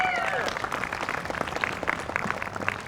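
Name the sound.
crowd applause at a political rally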